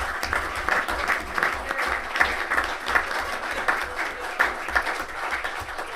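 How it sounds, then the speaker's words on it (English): A round of applause at a city council meeting in Los Alamitos, steady clapping from a modest crowd in a meeting room, even and continuous for several seconds. "can we just give another round of applause for"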